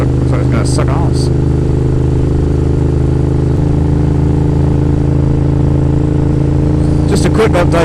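Motorcycle fitted with Dan Moto exhaust cans idling and rumbling in traffic, a loud, steady close engine drone with brief higher bursts near the start and end.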